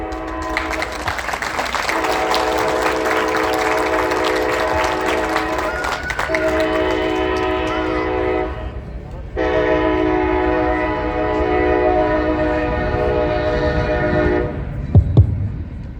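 A train rumbles past close by at an outdoor gathering, its horn blaring in long, loud, sustained blasts with a short pause between them, and faint voices and applause beneath.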